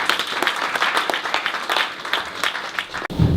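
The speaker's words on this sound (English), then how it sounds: "I would like to ask you to give a hand of applause to the team." A conference audience applauds a panel team on public sector participation in infrastructure, a loud, dense burst of clapping from many hands that continues for about three seconds before breaking off abruptly.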